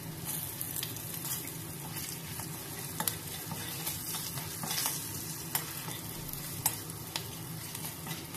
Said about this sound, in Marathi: आता प्रथमे खोबऱ्याचे काप घालूया, कारण ते थोडेसे तळून घ्यावे लागतील।